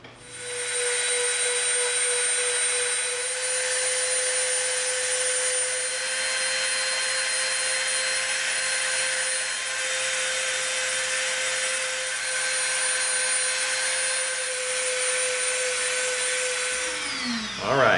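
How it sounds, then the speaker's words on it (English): A Dremel rotary tool grinds steadily, softening the edges of EVA foam for a graffiti gun prop, a continuous high-pitched whine that winds down at the end. "we're going to come in and we're going to soften this edge up with the Dremel"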